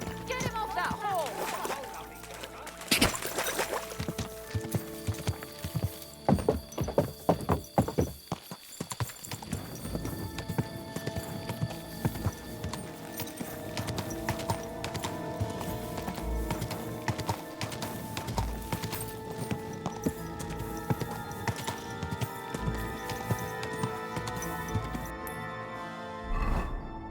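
Horse hoofbeats in the medieval game Kingdom Come Deliverance II, a rapid clip-clop of a galloping horse mixed with shouting voices, clanking and game effects, loud and busy throughout.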